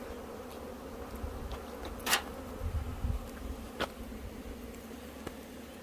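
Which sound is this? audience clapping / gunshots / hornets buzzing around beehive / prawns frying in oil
hornets buzzing around beehive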